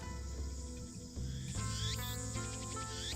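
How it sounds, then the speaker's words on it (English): Cicadas chirping in the few trees around a small shrine tucked among buildings in Akihabara, a Steins;Gate game scene, heard as steady insect trilling layered with background game music, with no speech. "I can hear the chirping of cicadas from the few trees growing here."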